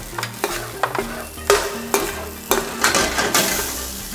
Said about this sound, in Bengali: এবার খুব ভালো করে নেড়ে মিশিয়ে নেওয়া হচ্ছে।